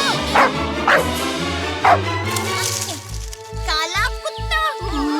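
A black cartoon dog in a Chhota Bheem kids' episode gives a quick run of loud, rhythmic barks in the second half, after a stretch of cartoon voices and background music.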